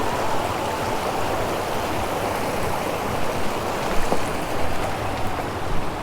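River water flows in a steady, loud broadband rush at close range, continuous throughout with no voices and only slight swells.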